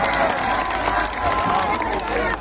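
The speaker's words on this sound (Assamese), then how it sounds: "হাত চাপৰি এখন বজাই" Audience at an Assamese comedy and Bihu song show clapping along, a dense continuous patter of hands with crowd murmur, steady and fairly loud throughout.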